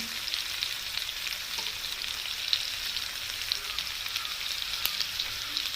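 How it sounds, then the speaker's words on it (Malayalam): Prawns fry in a pan until crisp, a continuous crackling sizzle with scattered sharp pops, steady and close, with no talking. "ഇതെല്ലാം നന്നായിട്ട് ഫ്രൈ ആയിട്ടുണ്ട്"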